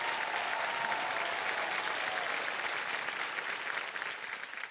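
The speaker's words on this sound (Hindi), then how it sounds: "सोनल जी को ताली बज जाए एक बार जोरदार" A studio audience on the KBC quiz show breaks into loud, dense, sustained applause for contestant Sonal, steady throughout and tapering slightly at the end.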